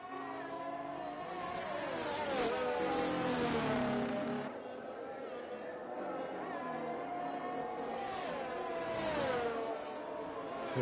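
Williams Formula race car engine in a racing video game at the Barcelona circuit, a high-pitched whine rising and falling through gear changes, steady and fairly close.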